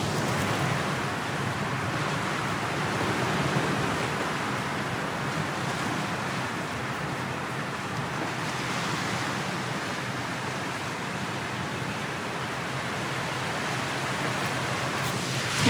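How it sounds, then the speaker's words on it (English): Ocean waves wash onto a beach in Maui, making a continuous, even roar of surf with no distinct breaks. Wind adds to the sound, which stays steady throughout with no one talking. "I'm just gonna leave you listening to the waves for a minute"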